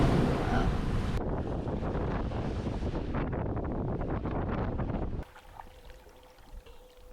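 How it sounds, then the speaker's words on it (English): Small waves breaking from all directions around a cruising sailboat, heard as a steady loud rush of water and wind buffeting the microphone, which drops abruptly to a quieter, distant wash near the end. "it's just a lot of small breaking waves from all directions."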